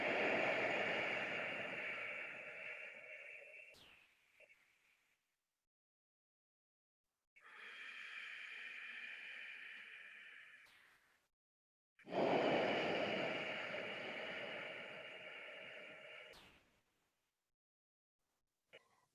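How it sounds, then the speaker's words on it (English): Ujjayi yoga breaths drawn through a constricted throat, three long, hushed, ocean-like rushes of airy hiss, each lasting several seconds and separated by silent pauses. "Making a sound as the air passes by the back of your throat."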